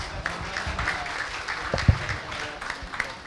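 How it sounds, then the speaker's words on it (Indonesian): At a university energy talk, the audience applauds three speakers, a moderate, steady patter of clapping with a single sharper thump partway through. "sekali lagi tepuk tangan buat 3 pembicara kita"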